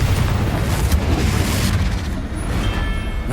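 A fiery Confringo blast spell in Hogwarts Legacy erupts as a loud, close, rumbling boom that roars on and slowly fades over a few seconds.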